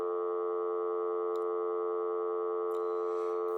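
A steady telephone busy tone holds unbroken for about three and a half seconds, loud and clean, with no voices over it.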